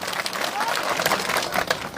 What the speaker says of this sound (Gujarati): જોરદાર તાળીઓથી એકવાર ઈશુભાઈ ગઢવીને વધાવીએ